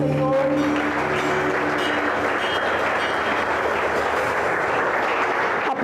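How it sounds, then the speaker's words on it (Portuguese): Congregation applauding during a family church service, a loud, sustained wash of many hands clapping, with a brief tonal voice or instrument at the start. "você pode aplaudir ao Senhor."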